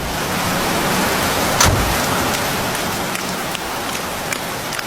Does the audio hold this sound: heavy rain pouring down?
yes